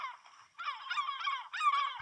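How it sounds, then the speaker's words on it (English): Seagull calls added as a sound effect in Audacity: three bursts of harsh, squawking cries, the first softer and the next two louder and nearer, with short gaps between them and no voices. "the next step is to start adding these guys, the seagulls"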